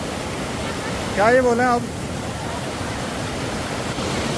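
Floodwater rushing through a mountain village, a constant broad roar of torrent that sweeps sandals away, steady and enveloping throughout, with a brief spoken line from a man partway in.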